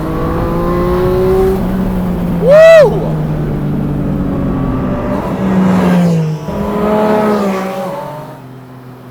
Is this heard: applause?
no